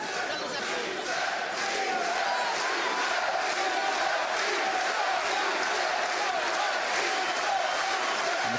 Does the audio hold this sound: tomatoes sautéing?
no